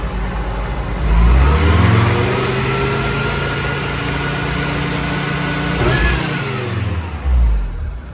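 Car engine long left in storage with old fuel and a newly replaced leaking tank, running close and loud, revving up several times with rising and falling pitch over a steady idle, no talk.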